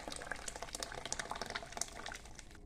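Blended tomato and onion poured into a cooking pot for harira make a continuous thick, bubbly gurgling splash, close and fairly even for a few seconds, without speech.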